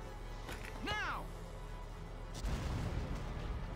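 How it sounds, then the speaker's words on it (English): Mortar shell blasting a wall in the strategy game Valkyria Chronicles: a whistling launch sweep is followed by a heavy low rumbling impact, with game sounds underneath. "I'm going to use a mortar shell to knock down that wall over there"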